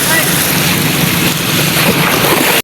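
Steady broadband rush of a small boat moving on the open sea, with wind and wave noise constant throughout and a faint voice underneath.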